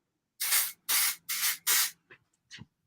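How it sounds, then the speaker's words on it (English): Texture spray sprayed onto hair in a salon: four loud, close, evenly spaced hissing bursts, followed by a few shorter, fainter puffs. "I'm going to just use some texture spray."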